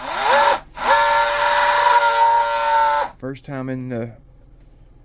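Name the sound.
mini hydroplane model boat motor spooling up for the first time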